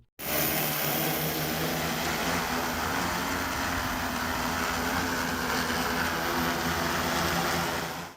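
Drone used to carry a Ganesh idol for immersion, a steady loud motor whine and rotor buzz holding constant throughout, close and alone with no talk.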